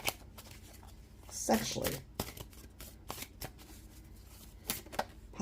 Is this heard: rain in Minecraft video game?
no